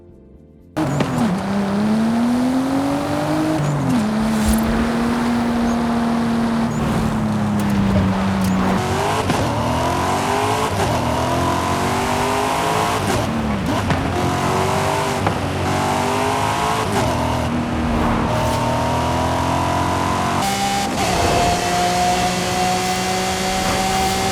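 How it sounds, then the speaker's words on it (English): Several race car engines in the video game Forza Horizon 5 roar and rev continuously, pitch rising and falling through gear shifts, loud and close with no talking. "the exhaust notes sound distinctive between car types and between modifications"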